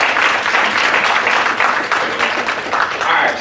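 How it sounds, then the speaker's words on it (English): A workshop audience applauds for a performer named Detonator, dense steady clapping filling the room for a few seconds. "All right, another round of applause for Detonator,"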